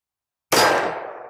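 A single loud, sharp report from a Smith & Wesson M&P 2.0 Metal pistol in .40 S&W, fired at a steel target on a range, with a bright metallic ring that fades over about a second.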